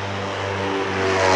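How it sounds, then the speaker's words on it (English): A twin-engine Duchess airplane departs nearby, its propeller engines a steady, loud drone with a strong low hum that swells slightly toward the end. "That's a Duchess going out right behind you."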